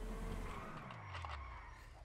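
A car in GTA V skids after its tire is shot out by a sniper, giving a faint, continuous tire squeal over a low, descending engine drone lasting about two seconds.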